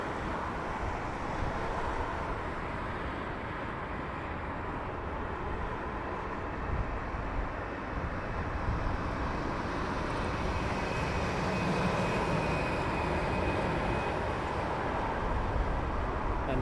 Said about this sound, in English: A350 inbound, British Airways.